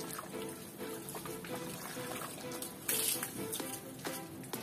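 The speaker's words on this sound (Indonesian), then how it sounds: "Coba kita siram dengan air" Water poured over a car's glass window still coated in mold deposits, a continuous close trickling and splashing wash with a brief louder gush midway.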